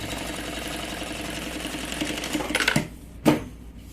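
Sewing machine stitching a fabric pencil case, a steady close mechanical whirr of the needle running for about two and a half seconds, ending in a louder burst, then a brief sharp clack after a short pause.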